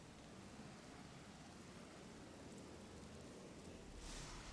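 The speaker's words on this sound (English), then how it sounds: "So thunder and rain." Rain and thunder ambience during a tabletop role-playing game scene in a forest: a steady, quiet wash of rainfall hiss with a low rumble underneath, swelling slightly near the end.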